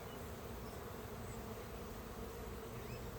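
Honey bees buzz steadily at an open hive during an inspection, a dense, continuous close-up drone of many wings with no other sounds.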